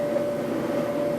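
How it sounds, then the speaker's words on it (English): A clothes dryer runs with a steady low mechanical hum and a sustained electrical tone, close and constant through the short stretch. "So what we'll do, door shut, turn on our dryer"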